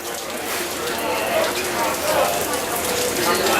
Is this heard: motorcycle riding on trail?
no